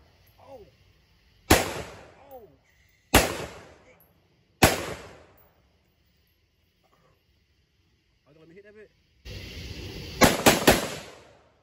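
An AR-15 pistol fires several sharp, loud single shots outdoors at night, spaced a second or two apart and each trailing off in echo, followed by a quick cluster of rapid shots near the end.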